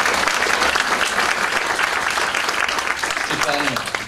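Audience at Comic-Con Paris applauding a guest, a loud, dense, continuous burst of clapping throughout that eases slightly at the end.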